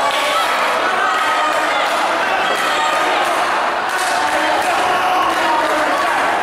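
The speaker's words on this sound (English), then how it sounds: "Crowd chanting for Ryan Lloyd" A crowd at an independent pro wrestling show, chanting for wrestler Ryan Lloyd, creates a dense, steady roar of many voices with rhythmic surges, along with occasional thuds from the ring, loud and continuous.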